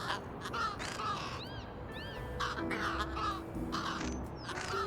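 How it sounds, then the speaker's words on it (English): A crow caws several times in the video game Little Kitty, Big City, with short harsh calls over a steady outdoor ambience of the game. "So let's go back to plan A and see if Crow wants to accept this nice shiny can."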